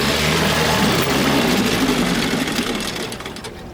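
A 1964 Evinrude 3 HP outboard motor runs in a test barrel, a steady, loud buzzing engine drone throughout that eases slightly toward the end.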